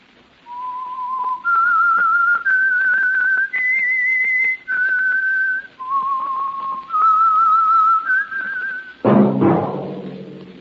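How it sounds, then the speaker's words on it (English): A clear whistled tune of sustained steady notes stepping up and down, followed by a sudden burst of noise at the end. "That whistle is your signal, the Whistler"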